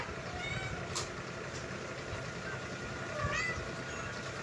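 A cat meows faintly a couple of times over steady background hum and low rumble, with no clear speech.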